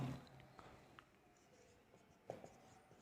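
A math question is written out by hand, with faint scratchy pen or marker strokes in short bursts and a couple of sharper taps, quiet and close with no speech.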